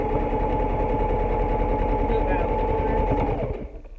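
A sewing machine stitching a fabric face mask runs in a fast, steady whirring rhythm close up, slowing and stopping just before the end.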